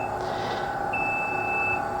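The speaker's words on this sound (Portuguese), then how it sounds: "Esse alarme é pré-selecionado toda vez que atingir as temperaturas de 70, 100, 150 ou 200 graus." Artisan roasting software sounds a temperature alarm while controlling an Atilla Gold Plus coffee roaster: a single steady electronic beep of just under a second over a constant background hum.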